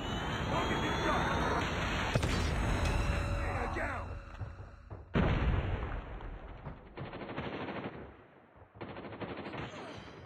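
Gunfire in Call of Duty Mobile builds into a dense, loud barrage of rapid shots and heavy blasts from a predator missile strike, with game voice callouts mixed in.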